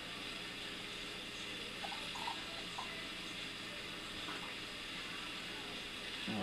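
Beer poured from a green glass bottle into a glass, a faint steady hiss and fizz of liquid running continuously with a few small splashes, quiet and close.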